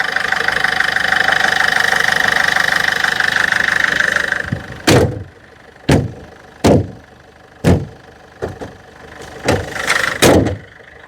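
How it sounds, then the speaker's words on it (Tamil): A used car offered for sale at a dealer in Tiruchendur runs steadily at first, then the engine note drops and a series of sharp, loud thumps or knocks repeats irregularly, close by, with no talking. "இந்த வண்டி ஸ்டார்ட் பண்ணி காட்டேன்"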